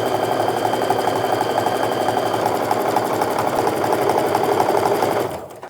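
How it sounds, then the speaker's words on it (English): A sewing machine runs steadily while quilt strip sets for a Christmas quilt are stitched together, a loud, even mechanical whir with rapid needle rhythm that holds for about five seconds and then winds down. "Then you can just lift up your presser foot, feed in the next piece, and start sewing."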